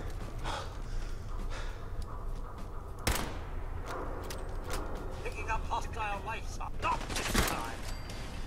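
Gunfire in the video game Fallout 4, with scattered sharp shots among game noise, one strong crack around the middle and another burst near the end, while a player talks, gasps and laughs over it.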